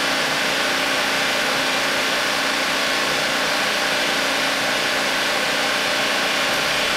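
A 500-ton TMP hydraulic press closes slowly under tonnage, giving off a constant, loud hydraulic drone and hiss that holds steady without change from start to finish.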